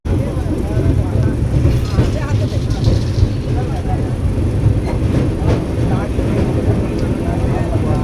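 Interior of a moving local train, a loud continuous low rumble with rattling carriage noise throughout and faint voices mixed in.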